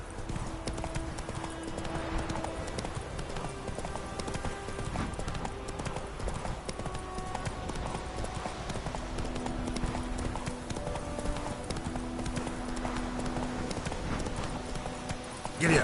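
Horse hooves galloping in The Witcher 3, a continuous fast clip-clop pounding throughout under game music and ambience, with a brief bit of speech mixed in.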